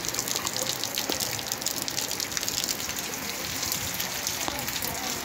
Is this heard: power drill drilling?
no